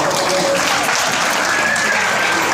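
Loud, steady applause from a school audience after a performance, dense clapping filling the whole stretch with no gaps.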